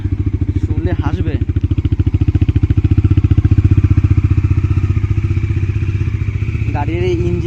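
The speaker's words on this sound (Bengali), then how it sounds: "এটা প্রথম স্টার্ট দেবো, এখন কোল্ড স্টার্ট" A Bajaj Dominar 400 motorcycle cold-starts after a service and idles close by with a loud, even, rapid thumping beat, while a voice talks over it.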